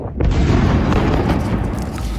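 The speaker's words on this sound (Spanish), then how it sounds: "Israel vuelve a bombardear el sur de Beirut 4 meses después del inicio de la tregua." An Israeli drone bombing strikes a suburb in southern Beirut, a loud, sustained explosive roar that swells abruptly and rumbles heavily throughout, with no speech over it.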